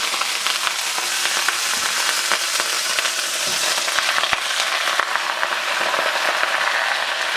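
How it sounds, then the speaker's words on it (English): Loud, steady sizzling and crackling of bok choy searing in a hot skillet, continuous with scattered pops. "hold it down to get a little sear on it"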